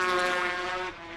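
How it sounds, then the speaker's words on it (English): A racing motorcycle engine at the Dundrod 150 road race rings loud and close for a moment as the rider slips the clutch, the revs holding high then dropping. "You can hear him slipping the clutch there. The revs build up and down again."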